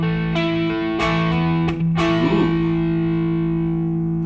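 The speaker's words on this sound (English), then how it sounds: "This is why we run the Minotaurs as a boost. Not for distortion, for clarity, tightness, and amp behavior." Electric guitar played through a Helix amp model with a Minotaur pedal used as a clean boost, a few sustained chords struck and left ringing out, crisp and moderately driven, with no talking.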